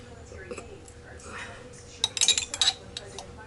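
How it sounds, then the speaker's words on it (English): Utensil tapping a bowl in a home kitchen while cooking, making a quick cluster of bright clinks near the end after quiet rustling and faint talk. "Tap the bowl, girlfriend."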